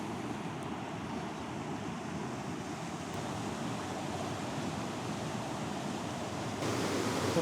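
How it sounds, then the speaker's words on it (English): Rushing river rapids in Glencoe, Scotland during Storm Gerrit, a steady broadband roar of turbulent water heard close up throughout, swelling slightly louder near the end. "here are the rapids now"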